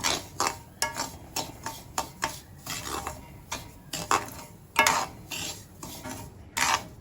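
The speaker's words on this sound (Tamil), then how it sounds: "சிம்மில் வச்சு ரவையை நல்லா வறுத்துக்கணும்." Semolina roasting in a pan over low heat for mango kesari, stirred with a spoon that scrapes the metal in a steady run of short, close strokes, with no talking.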